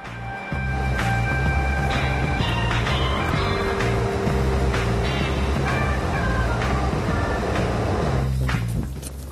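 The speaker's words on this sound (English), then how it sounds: "Now we're going to take a tram." A tram rides through Hanover, Germany, giving a loud, close rolling rumble with a low electric motor drone and rising and falling tonal whines, as heard from inside.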